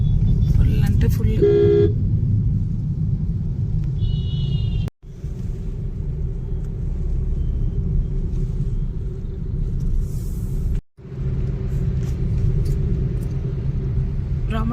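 Heavy road traffic near Hyderabad, a dense low rumble of engines with car horns tooting early on, continuing steadily under speech, with two brief cutouts partway through.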